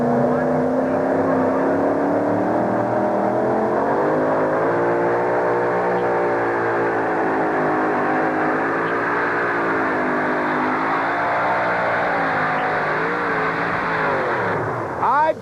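The Power Play truck-pull vehicle's heavy Keith Black engine roars at full throttle through a long, sustained pull at an indoor arena, loud and steady with shifting pitch, and commentary runs underneath.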